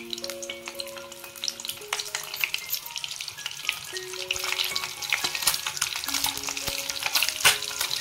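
Four eggs fry in a spiced masala for a village-style egg curry, giving a steady loud sizzle with crackling pops and occasional stirring clinks throughout, with no talking.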